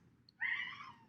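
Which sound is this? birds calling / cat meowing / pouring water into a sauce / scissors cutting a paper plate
cat meowing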